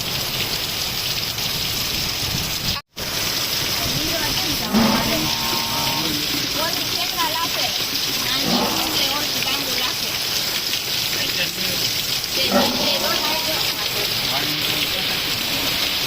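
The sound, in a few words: heavy rain falling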